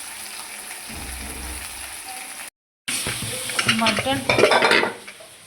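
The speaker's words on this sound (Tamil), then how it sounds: "இப்போ மசாலாலாம் போட்டுக்கலாம். கட் பண்ணி வச்சு வெங்காயம் சேர்த்துக்கலாம், பச்சை மிளகா." Onions and green chilies frying with masala and mutton in a pan, a steady sizzle with stirring and utensil scrapes that grows louder near the end after a brief silent gap.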